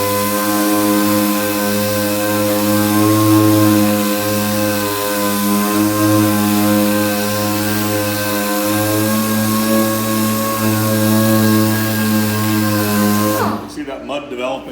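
Powered wet sanding of car paint with fine 1000-grit paper, a loud steady motorized hum with strong tonal harmonics running continuously for about thirteen seconds before cutting off.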